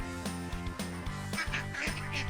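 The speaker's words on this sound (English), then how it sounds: "He uses his ears to hear the ducks go quack, quack." Ducks on a farm quack in repeated short calls over a constant musical background, loud and close, with no talking.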